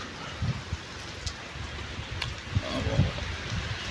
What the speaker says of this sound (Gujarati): આવે છે વરસાદ.